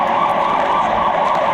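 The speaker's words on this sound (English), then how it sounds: "It's an ambulance." An ambulance siren in Portugal wails continuously, its pitch rising and falling in a steady cycle, loud and fairly close.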